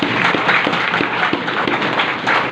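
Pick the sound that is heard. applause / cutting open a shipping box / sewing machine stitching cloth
applause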